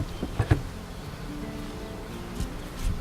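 Honey bees buzz around a beehive during a spring hive inspection, a steady faint hum with a few louder thumps near the start.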